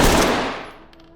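A rapid burst of automatic fire from a modded gun in the tactical shooter Ready or Not, loud and close, with the shots blurring together and then ringing out into a short decaying tail.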